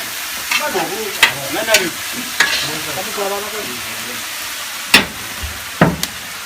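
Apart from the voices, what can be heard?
garlic and ginger sizzling in a pan for civet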